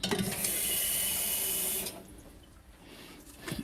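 Water runs from a tap into a pot of peanut soup, a loud, steady hissing stream for about two seconds that then cuts off, leaving quiet with a small clatter at the end.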